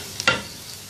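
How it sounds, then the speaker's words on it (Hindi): Finely chopped onions sautéing in oil, a brief clatter of stirring followed by a soft steady sizzle close by. "2 खाने के चम्मच प्याज बिल्कुल बारीक कटा हुआ। 1-2 मिनट सौते करेंगे इसको।"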